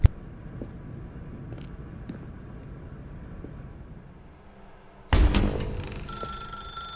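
Telephone ringing in The Stanley Parable video game: faint repeated rings over a quiet hum for several seconds, then a louder burst of clattering, jangling sound near the end, no talk.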